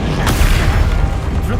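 Spell-casting explosions in Hogwarts Legacy come as a loud booming burst over a dense rumbling game background, with a voice faintly present.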